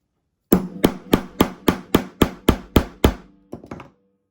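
A punch is struck about ten times in quick, even succession to set a rivet on a satchel bag, each tap sharp and close, followed by a few softer taps.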